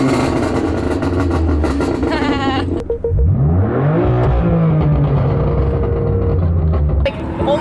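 A car engine at a car show revs loudly and close, rising and falling in pitch over a steady idle, with a brief dip before another hard rev toward the end.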